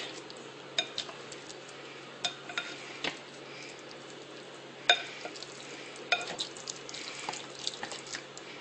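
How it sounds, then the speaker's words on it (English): Wet stirring and scraping of ground meat with tomato soup in a pot, with soft squelches and occasional clinks of a utensil against the side, steady and close, no talking. "You want it to be mixed in really well with the tomato soup."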